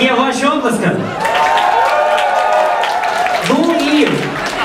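Festival crowd at an outdoor Lviv music event applauding and cheering, a steady wash of clapping with whoops and shouted voices rising over it, loud and close throughout.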